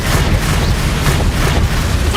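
Expelliarmus spell cast in Hogwarts Legacy bursts as a loud, dense rumbling blast of magical energy, sustained and booming with no clear break.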